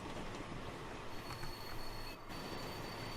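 Train running in Transport Fever 2, a steady rumbling roll with wheel squeal and a faint clickety-clack, heard close and continuous with no voices.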